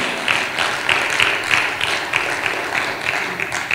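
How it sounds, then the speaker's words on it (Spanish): Church congregation applauding during a sermon: steady, dense clapping from a crowd with sharper individual claps standing out at a rhythmic pulse, fairly loud and close, with no talk over it. "Otro aplauso, amado hermano."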